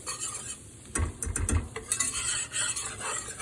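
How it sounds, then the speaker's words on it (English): A metal whisk scrapes and clatters through flour in a pan for gravy, a run of quick close strokes in the middle with a soft background hiss, and no talking. "and mix with my whisk. I want to make sure we get that flour cooked."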